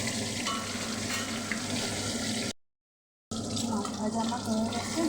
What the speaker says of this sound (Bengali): জিরে আদা বাটা দিয়ে মাছটা ভাজা হচ্ছে।